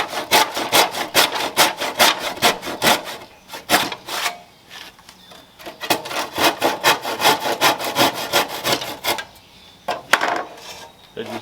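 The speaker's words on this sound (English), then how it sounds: "And you take your handsaw, slip it right in here." Handsaw cutting wood while building a Viking chair: rapid rhythmic back-and-forth strokes, close and loud, with a brief pause midway before the sawing resumes.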